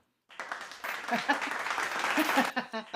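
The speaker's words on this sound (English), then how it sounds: "we have a clapping applause track" A canned applause and clapping track on a live show plays steadily for about three seconds, a dense patter of many hands that starts abruptly and runs under a speaking voice.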